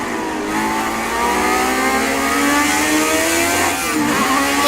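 Race car engine from Project Cars 2 revving loud and close, a continuous high-pitched whine that climbs and shifts through gears, with no talk over it.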